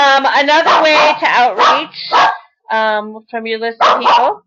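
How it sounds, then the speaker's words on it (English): A pet dog barks and yips repeatedly, close and loud, overlapping with a person talking. "Oh, sorry about my dog."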